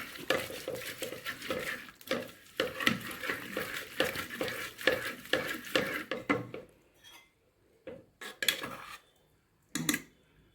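Vegetables for soup frying and being stirred in a pot, with steady scraping and clinking of a metal spoon against the pan for several seconds, then sparser, isolated clinks and scrapes near the end.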